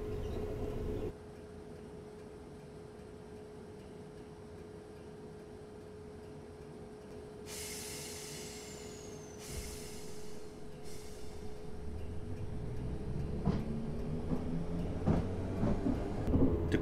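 A Class 4 electric train in Train Simulator 2018 slows to a halt at a station on the Hampton Court to London Waterloo route, with a steady low hum, brief hissing air bursts, then rising rumbling motor tones near the end.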